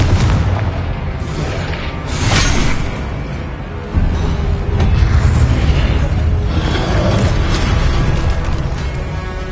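Confringo blast spells in Hogwarts Legacy on PS5, a sustained stretch of loud, rumbling low booms and bursts, with a couple of sharper impacts rising from the dense, steady battle roar.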